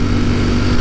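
A Ducati StreetFighter V4 S motorcycle runs steadily on a quiet rural road near Puyallup, with a loud, close engine drone and wind rush for under a second.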